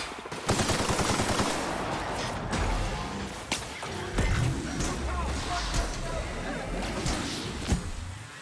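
A big gun in The Outer Worlds fires in rapid, loud bursts like machine-gun fire with crashing impacts, set against dense game noise and a voice.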